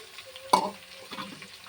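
Ivy gourd (tindora) is stirred in a frying pan with sesame seeds: a single sharp scrape of the spoon, then a soft, quiet sizzle. The sound is close and faint.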